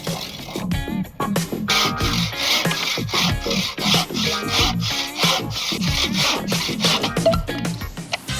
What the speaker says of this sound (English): Now we're going to cut the timber.